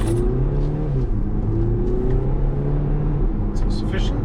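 An Audi Q5 accelerating hard at full throttle on a closed road, its engine rumbling and rising through steady revs heard from the cabin, with speech in the car over it.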